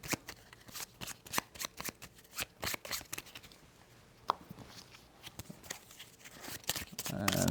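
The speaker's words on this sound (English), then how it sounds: "now we're going to shuffle all these decks back up." Decks of cards for the Peacemakers: Horrors of War board game are shuffled by hand in quick, close riffles and repeated snaps, with faint talk underneath.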